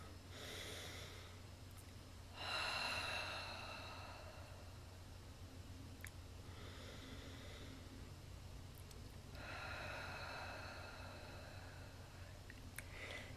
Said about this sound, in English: I would consciously change my breathing patterns. And I would do it so he could literally hear it.